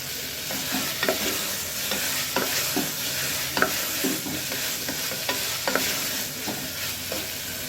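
Cubed paneer stirred and fried in a spiced masala of turmeric and garam masala in a pan for a vegetable kurma, with a steady sizzle broken by repeated scraping knocks of the spoon, close and continuous.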